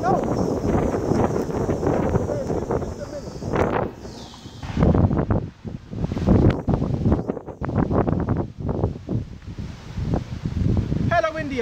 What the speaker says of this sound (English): Hella windy out here.